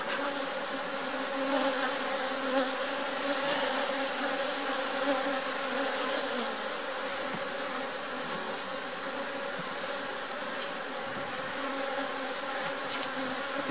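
Honey bees buzzing thickly around an open hive during a hive split, a continuous close, droning hum with no talking over it.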